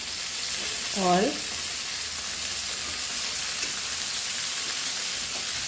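Honey glazed chicken wings sizzle on a hot tawa in a steady, even hiss, while a voice talks briefly over the frying.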